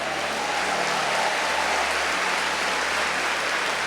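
A church congregation applauding, a dense, steady wash of clapping from many hands that stays even and continuous throughout, with no voices standing out.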